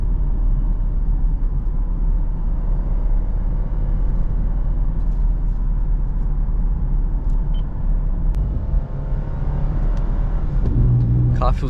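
A Lexus IS250 on stock tires and rims accelerates while driving, its engine a steady loud drone with heavy low road rumble throughout, rising slightly as it's pushed harder.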